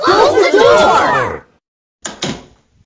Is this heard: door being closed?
yes